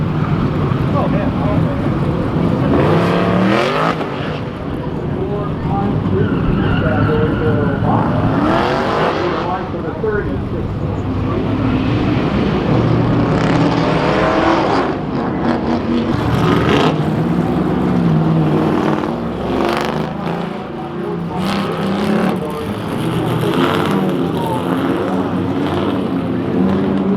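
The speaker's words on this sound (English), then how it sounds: "a sports car class is running today" Sports cars racing at the Goodguys car show in Dallas, with a steady, loud engine roar that swells and fades as cars pass. People talk over it throughout.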